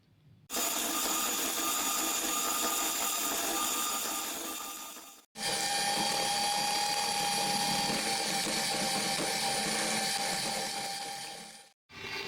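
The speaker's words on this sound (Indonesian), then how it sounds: "Kita akan mixer menjadi satu. Kita gunakan kecepatan yang paling tinggi." An electric mixer whirs at its highest speed while beating pandan sponge cake batter: a loud, steady motor whine in two long runs, broken by a brief pause and a sudden cutoff at the end.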